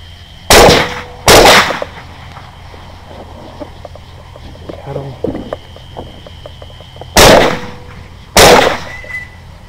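Two pairs of sharp, loud rifle shots fired at running hogs during a hunt, each burst cracking with a ringing tail, separated by a quiet outdoor stretch with faint rustling.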